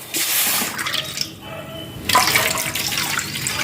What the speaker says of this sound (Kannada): ಅದಕ್ಕೆ ಈಗ 2 ಕಪ್ಪು ರವೆಗೆ ಒಂದು 4 ಕಪ್ಪು ಆಗುವಷ್ಟು ನೀರು ಹಾಕಿಕೊಳ್ತಿದ್ದೇನೆ